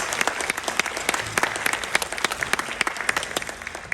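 Audience applause after a featured percussionist at a spring school band concert, many hands clapping densely and steadily throughout, fairly close and lively with no talk over it.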